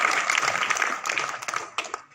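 Audience applause at a talk on women's rights, a brief spell of steady clapping that thins out toward the end into scattered claps.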